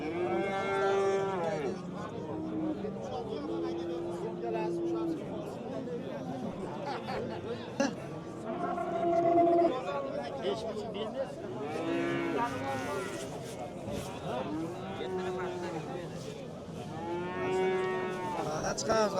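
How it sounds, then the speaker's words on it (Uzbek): A calf moos repeatedly at a busy livestock market in Fergana, its calls rising over steady crowd chatter and people talking nearby. "Sigirni bolasi."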